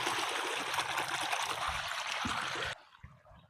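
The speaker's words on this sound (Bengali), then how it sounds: "আমরা দেখবো পানি পড়তেছে, পানি বাইরে হইতেছে" Water gushes steadily from an irrigation motor pump outlet into a farm field, a loud continuous rushing flow that cuts off abruptly, leaving faint background sounds.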